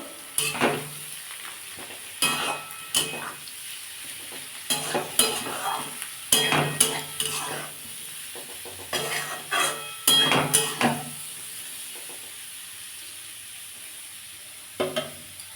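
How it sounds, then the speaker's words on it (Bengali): Cauliflower florets fry in a pan with a soft continuous sizzle, broken by repeated bursts of a metal spatula scraping and clattering against the pan as the pieces are stirred. "দেখুন বন্ধুরা আমার এটা ফুলকপিটা ভাজা হয়ে গেছে"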